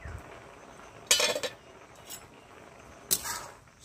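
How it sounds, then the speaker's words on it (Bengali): A metal lid is lifted off a cooking pot of greens with shrimp in a village kitchen, making two sharp clinks about two seconds apart with a faint tap between. "ঢাকনাটা খুলে নিচ্ছি"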